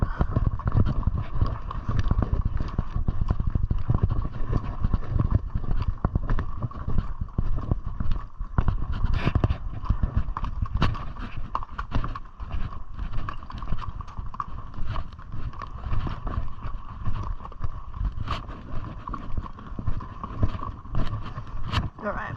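Horse hooves clip-clop steadily over hard ground on a steep Sahara trail ride in a continuous walking rhythm, with voices talking intermittently over them.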